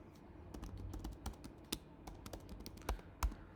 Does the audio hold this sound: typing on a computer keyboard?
yes